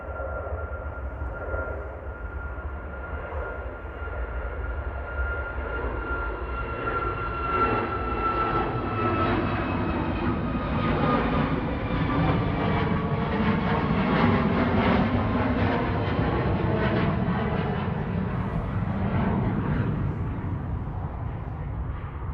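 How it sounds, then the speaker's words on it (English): A Ryanair Boeing 737 MAX 8 jet on its takeoff roll at Manchester Airport, a broad engine roar with a rising whine that swells louder as the aircraft accelerates, heard from a distance with no voices. "On the roll now, Ryanair 2070 to Alicante,"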